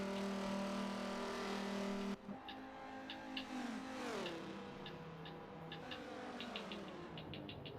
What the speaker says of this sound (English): That Corvette has got the power,